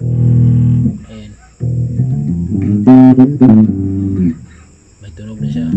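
Electric bass guitar played through an amplifier after the instrument cable is plugged in, sustained low notes with a few short plucked phrases and brief gaps, loud and close.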